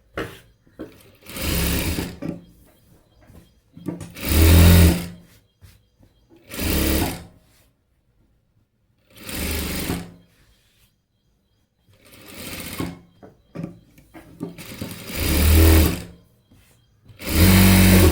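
A sewing machine stitches the lining onto a blouse sleeve in repeated loud bursts of whirring, each lasting a second or so and separated by short quiet pauses, with no voices over it.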